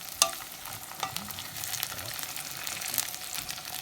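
Food frying in a pan while being stirred, a steady close sizzle with a sharp utensil scrape near the start and a few more knocks scattered through.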